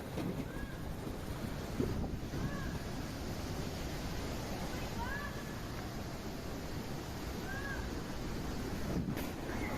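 Strong, steady tornado-like wind roars across the microphone, a dense continuous rumble with gusty buffeting throughout.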